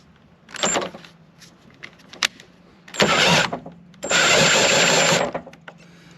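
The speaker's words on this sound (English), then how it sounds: "your cordless drill" A cordless drill with a socket adapter loosens a motorhome wheel nut in three bursts, a short one, then two longer high-pitched runs, each starting and stopping abruptly, close by.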